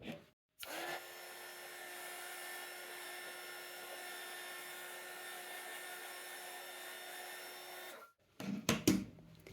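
A hair dryer blows on a layer of paper in a handmade junk journal, a steady droning whoosh for about seven seconds that stops abruptly, followed by brief handling clatter.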